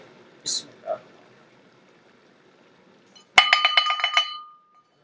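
A short bright bell chime rings out with several quick ringing tones after a couple of faint clicks, then fades into quiet.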